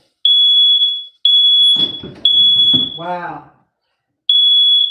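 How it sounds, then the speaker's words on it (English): An indoor smoke alarm sounds in piercing high beeps, each about a second long, loud and close, while a person exclaims and speaks between and over the tones. "I've never had my alarm go off."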